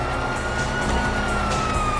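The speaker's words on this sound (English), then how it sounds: "you hear that? Sirens!" Police sirens in Grand Theft Auto 5 wail continuously in a steady, loud tone over the rumble of game traffic, filling the whole short stretch without any talking.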